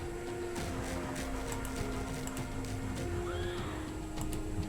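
Horses whinny in a busy World War Selection game scene, a few neighs rising over a steady hum of battle noise and clatter.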